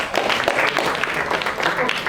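Steady group applause in a room at a traditional sports workshop, loud and continuous, with voices talking over the clapping.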